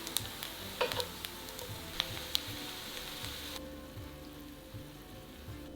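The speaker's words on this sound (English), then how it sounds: "add 2 tablespoons of oil and place the turnip cake in the pan. Cook until lightly brown" Turnip cake frying in oil in a pan, a soft steady sizzle with scattered crackles and pops that quiets partway through, close and moderately faint.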